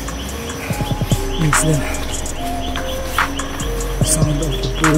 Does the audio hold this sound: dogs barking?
no